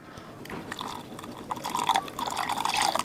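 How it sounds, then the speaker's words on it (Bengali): A cup of milk poured into a bowl for caramel pudding, a short close liquid stream that swells in loudness over a few seconds, with no speech. "আমি 1 কাপ দুধ নিয়ে নেব।"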